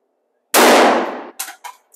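A single sharp, loud gunshot from a Smith & Wesson 5.7 pistol fired through a chronograph, followed by a decaying crack and a few short echoing reflections, with no talk.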